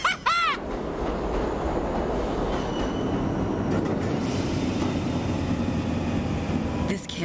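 Train rumbling and rattling in the zombie shooter game World War Z, a steady loud rolling roar throughout with brief metallic screeches at the start and end.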